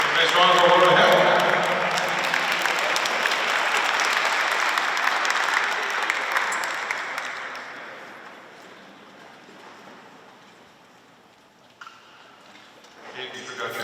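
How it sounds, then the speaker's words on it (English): Applause from an audience at a high school athletic hall of fame induction ceremony, loud and dense at first, then thinning and fading away over the second half of the clip. "Nice round of applause to him."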